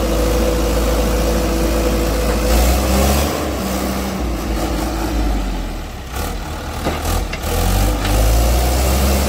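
A JCB machine's engine roars and revs steadily under strain as the stuck machine slips, a loud, continuous mechanical drone with rising and falling surges throughout.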